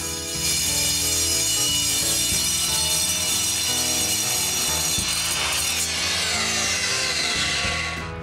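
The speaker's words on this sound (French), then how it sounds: "Je vais donc essayer de couper le tube." A saw cuts through a metal tube with a loud, continuous rasping grind that stays steady from start to finish.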